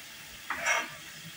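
Sausages frying in a pan while being made into sausage rolls, giving a soft, brief sizzle and stir that swells for a moment near the middle of a quiet stretch.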